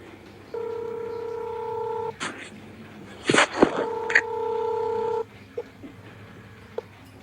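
A telephone call being placed gives two long steady tones, cut apart by a brief burst of clatter, followed by a couple of faint short beeps.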